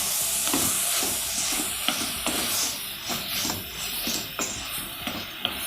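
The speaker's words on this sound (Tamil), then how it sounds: "இது நல்லா வதங்கணும்." Chopped tomatoes sauté in a pan with turmeric, sambar powder and salt for a tomato chutney, a steady sizzling hiss broken by regular clicks and scrapes of stirring.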